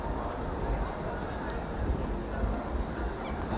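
A tram in Stockholm rumbles in steadily as it arrives at a stop, with a faint high wheel squeal, the low rolling noise continuous throughout.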